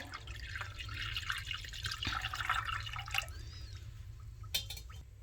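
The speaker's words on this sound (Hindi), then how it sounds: "थोड़ा सा हम इसमें पानी शामिल करेंगे।" Water poured into a glass of fennel sherbet over ice, a steady close trickle and splash with small drips that runs for several seconds.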